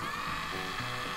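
Battery-powered toy lawn mower running after being switched on: a close, steady mechanical whir and buzz of a small motor with gear rattle, no talking.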